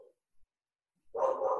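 A dog barks somewhere in a home kitchen, a short burst of two or three quick barks that sounds faint and a little distant after near silence.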